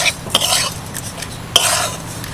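A spoon mixes mung dal kachori filling in a pan over low heat, scraping and clinking against the metal in a few distinct strokes over a faint background, close by with no voices.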